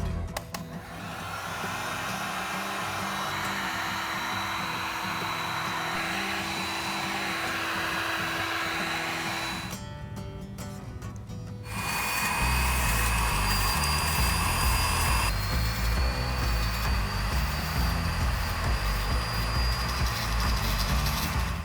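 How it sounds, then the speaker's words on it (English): A heat gun blows on EVA foam for a dwarven helmet, a steady, close, loud blowing roar that briefly drops and changes around the middle, then returns louder and fuller until the end. "We're going to hit this with a heat gun to open the lines up"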